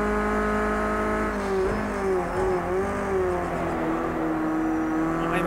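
A Renault Clio sliding through a corner in Project CARS 2 gives off a loud, sustained engine drone whose pitch wavers and dips as the car slides, then steadies. It is close and constant throughout.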